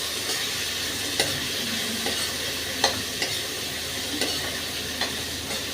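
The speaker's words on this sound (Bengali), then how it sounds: "দিয়ে ভালো করে ভাজবো।" Sliced bitter gourd fries in a pan with turmeric and dried chili powder, giving a steady loud hiss of sizzling oil broken by occasional scraping knocks of a spatula, with no voices.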